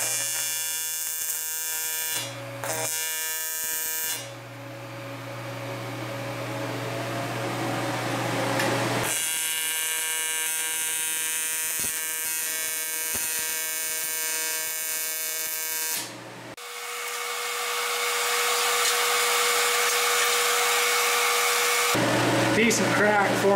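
A TIG welding arc on thick 7075 aluminum rod, which cracks as it cools, gives off a steady electric buzz. The buzz runs in several long passes separated by short pauses and is loud and close.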